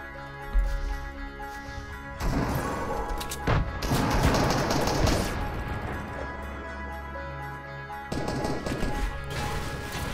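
Grenades going off amid a chaotic video game battle, heavy crashing blasts and rapid bursts of gunfire-like impacts filling the clip, loud and close, with a brief lull before another surge near the end.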